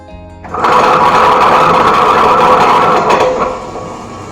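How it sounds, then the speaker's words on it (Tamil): A wet grinder starts up and churns urad dal into medu vada batter, a loud, close mechanical whirring hum that rises quickly, runs steadily, then eases off near the end. "இப்போது இந்த உளுத்தம்பருப்பை கிரைண்டரில் கொட்டிடலாம்."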